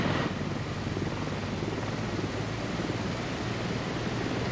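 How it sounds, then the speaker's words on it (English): A helicopter flies in a military video game match on the Gorodok map, a continuous loud whooshing rotor roar with a steady hiss that holds evenly throughout, with no voices. "Helicopters are going to be the most important part to watch here."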